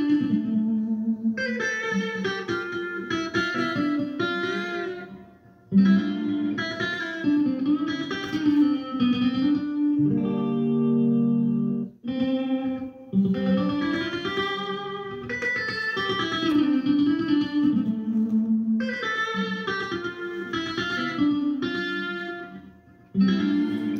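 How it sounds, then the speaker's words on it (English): An ADA S1000 digital delay unit set to a 256-millisecond echo, repeating a played instrumental phrase with audible trailing repeats and reverb-like tails, loud and continuous with a few brief gaps. "the echo is 256 milliseconds."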